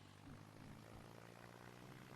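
A propeller airplane engine in the SimplePlanes VR flight game spins up and runs with a steady low drone and buzz, continuous and fairly faint, with no voices.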